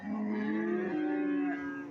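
A single long, low moo from a cow close by at a livestock market, drawn out for a couple of seconds.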